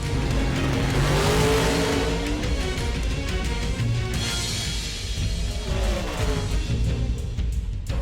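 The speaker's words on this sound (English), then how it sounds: "Pete Burner and John DeFloria make their qualifying pass." Nitro drag racing car engines roar loudly at full throttle during a qualifying pass, revving and accelerating hard with a brief gear-shift dip before surging again.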